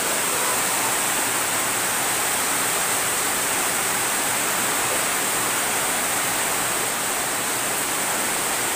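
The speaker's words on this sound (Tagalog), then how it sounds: "Malakas na ulan na may kasamang hangin." Heavy rain driven by wind pours down in a dense, steady hiss that stays loud and unbroken throughout, with no voices.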